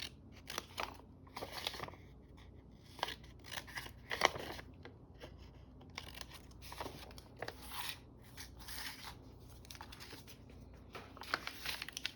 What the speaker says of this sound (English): And I am just cutting off some of this.